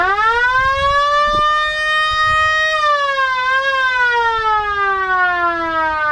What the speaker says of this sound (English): I love it. I love the siren.